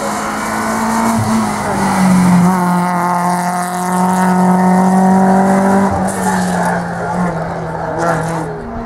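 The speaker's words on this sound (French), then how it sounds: "L'arrivée du numéro 90, retour à la catégorie du groupe FC, la classe 4 avec Arnaud Vermeer" A race car, number 90 in group FC class 4, arrives at the finish of a hill climb at Laussonne, its engine droning loudly and close with shifting pitch and some tire squeal, over a commentator's voice.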